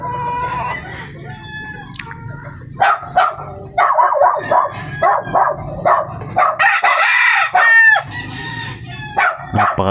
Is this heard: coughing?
no